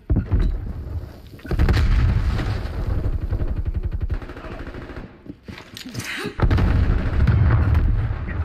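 A frag grenade blast in the shooter Black Ops Cold War, amid heavy gunfire and booming explosions: loud, dense low rumbling bursts that fill most of the stretch, with a brief lull before another big boom.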